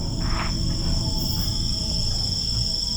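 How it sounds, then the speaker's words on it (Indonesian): Steady, layered cricket chirping at night in a camp area, with continuous high trilling bands running throughout, while geckos are present nearby; a brief faint knock or call appears near the start. "banyak tokek, terus kayak suara-suara jangkrik itu menyatu gitu."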